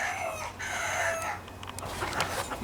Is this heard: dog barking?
no